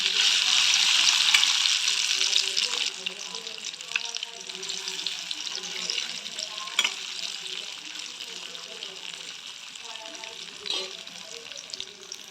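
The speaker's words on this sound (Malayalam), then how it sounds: "ഇനി ഇതിലേക്ക് ചക്ക നമ്മൾ മസാല തേച്ചത് ഇട്ട് കൊടുക്കാം" Masala-coated jackfruit pieces dropped into hot oil, a loud hiss of frying that settles into a steady crackling sizzle with occasional sharper pops.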